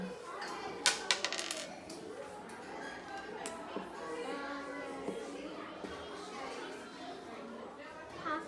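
Dice rattle and clatter onto a table in a short burst during a classroom numeracy board game, followed by steady background chatter from people in the room.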